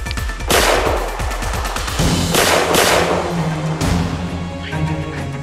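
Loud gunshots ring out close by in rapid bursts, sharp cracks mixed with machine-gun-like volleys, with no talk over them.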